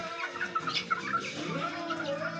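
RKG Poncan chicks peep and cheep continuously nearby, a dense overlapping chorus of high, tonal chirps with no talking.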